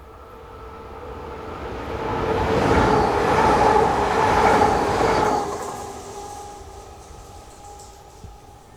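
An AM08 electric train set on a service for Braine-le-Comte approaches, roars past at its loudest midway with a humming motor tone, then fades into the distance.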